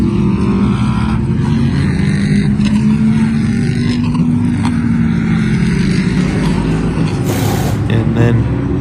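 Several GT3 race cars in a racing game roll into the pits at Ryula Circuit, engines droning steadily and fairly loud, with a few sharper blips near the end.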